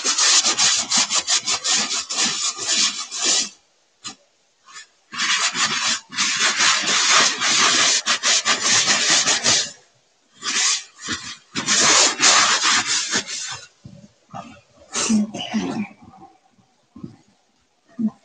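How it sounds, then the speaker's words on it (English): Wax is rubbed by hand into the surfaces of a purse decorated with a transfer, giving loud close scrubbing and rasping strokes in bursts separated by short pauses. "Just working that wax in, working it into the transfer and into the whole purse, all the surfaces."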